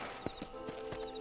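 Hooves clip-clop in a few quick, close steps as a horse moves in the Western video game Red Dead Redemption, with a faint whinny behind them.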